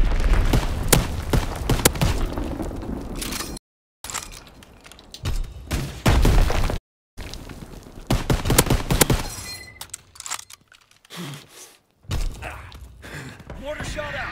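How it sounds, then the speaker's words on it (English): Mortar fire and explosions in the Call of Duty: WW2 video game, with heavy booms and rattling gunfire in dense bursts broken by short silent gaps, under game voice callouts. "Mortar shot out."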